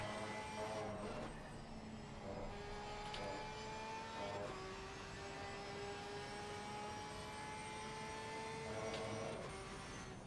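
Onboard engine sound from a PC racing game at Laguna Seca plays at low volume. Faint, steady engine tones rise and drop in pitch as the car shifts and brakes through the lap.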